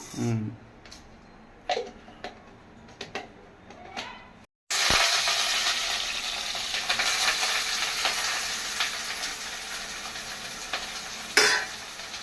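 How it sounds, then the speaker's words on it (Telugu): Tempering seeds crackle and sizzle continuously in hot oil after a sudden burst, with a few sharp metallic clinks of a spoon against the pan early on. "తాలింపు గింజలు వేస్తున్నా"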